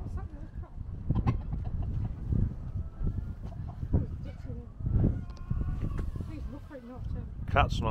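Chickens and roosters cluck and crow on a Peak District farm during Storm Katherine, with a few sharp calls near the end. A person talks steadily over the birds.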